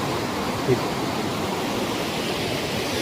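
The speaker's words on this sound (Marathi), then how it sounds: "वरती पाणी कुठून पडतंय." The Van Lakshmi waterfall at Vangani West pours with a steady, dense rushing roar that stays constant throughout.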